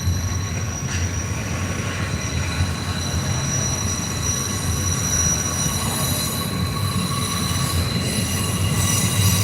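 A train rolls past trackside in North Fork, West Virginia, with a continuous heavy rumble and high, sustained wheel squeal, loud and steady throughout.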